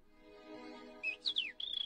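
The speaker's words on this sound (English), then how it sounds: "The birds! They're attacking." Small birds give a few high, bright chirps and whistled tweets over a soft low hum, brief and fairly close.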